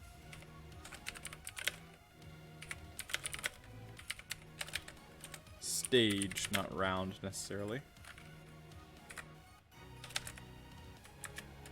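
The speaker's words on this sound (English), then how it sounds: "I have to type slowly with this keyboard." Typing on a computer keyboard whose keys tend to stick, a steady run of close, slightly irregular key clicks that continues under a person talking in the middle.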